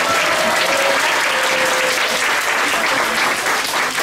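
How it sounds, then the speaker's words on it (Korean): A church congregation at a Sunday worship service gives the elders a big, continuous round of applause, thick and steady throughout with faint crowd murmur. "우리 장로님 큰 박수로 감사합니다"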